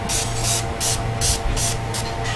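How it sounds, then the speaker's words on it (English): Several short, airy spritzes of Urban Decay De-Slick makeup setting spray hiss in quick succession over a steady background hum from a fan. "I'm just going to spray myself with the Urban Decay De-Slick Makeup Setting Spray"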